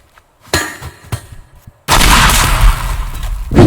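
A pipe bomb goes off in the destruction game Teardown, a loud broadband blast that erupts after a couple of short clanks and keeps roaring with debris for nearly two seconds.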